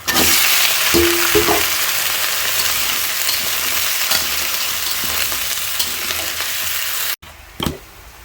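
Chopped onion and green chilli hit hot oil for a cauliflower fry, giving a loud, steady sizzle with a few sharp clatters early on, then a sudden cutoff near the end followed by a brief spatter.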